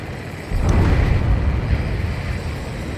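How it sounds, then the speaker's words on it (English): A deep underwater explosion in Ace Combat 7 swells in with a muffled low rumble, a heavy boom that lingers and slowly fades under steady aircraft noise, with no voices. "A huge explosion just went off underwater."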